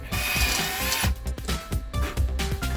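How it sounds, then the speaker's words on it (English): A power drill backs a screw out of a Zip Dee slide-out awning on an RV, whirring in short repeated bursts with rhythmic clicking, close and fairly loud. "now I can drill this one back out again."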